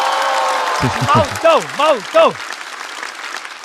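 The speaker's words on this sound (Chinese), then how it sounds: "掌声送给毛豆。" Audience at a stand-up comedy show applauds a comedian in a brief burst of clapping, while a host speaks loudly over it in close, animated bursts.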